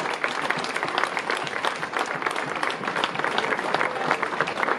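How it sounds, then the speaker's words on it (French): A crowd applauding at an outdoor summer evening event in Arnay-le-Duc, a continuous dense wash of clapping that stays strong and even throughout. "On peut aussi applaudir le club qui soutient son athlète"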